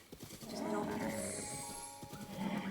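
Horse neighing with hoofbeats in The Legend of Zelda, a whinny swelling over clip-clopping steps and game ambience, fairly close and steady throughout.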